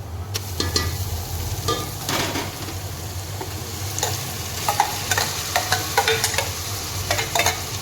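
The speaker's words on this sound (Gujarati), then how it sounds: "એને આપણે ત્રણથી ચાર મિનિટ સુધી સતલાવા દેશું" Onion paste sizzles in a pan for a Gujarati corn-cob vegetable curry, a steady frying hiss broken by repeated spatula stirring scrapes and clicks, close and alone.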